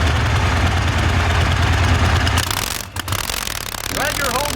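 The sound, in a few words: sidecar racing engine running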